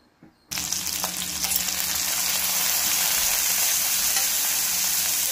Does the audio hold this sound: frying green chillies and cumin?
yes